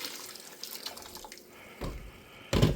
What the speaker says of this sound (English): So I'm going to add add some hot water to it just to save a little bit of time.